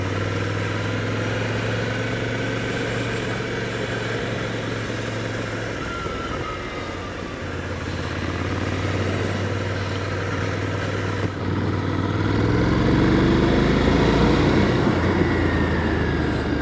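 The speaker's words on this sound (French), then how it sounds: "Alors j'essaye la Ducati Scrambler 800." A Ducati Scrambler 800 Icon runs while being ridden, its engine giving a steady, continuous drone that shifts in pitch as the bike accelerates and changes gear, with rushing road noise and no talking.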